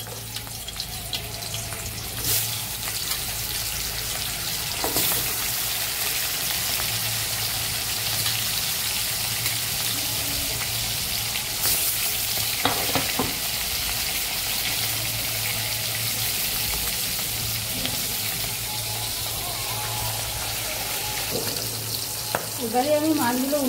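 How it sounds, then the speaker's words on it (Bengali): Fish frying in hot oil in a heated wok, a continuous loud sizzle and crackle with occasional scraping and clattering of a utensil, plus brief splashes of water near the end, no talking. "এবার কড়াই গরম হয়ে গেছে,"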